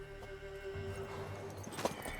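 A horse in The Witcher 3: Wild Hunt, heard in a brief, quiet burst of hoof clops and a short whinny over a steady game-music background.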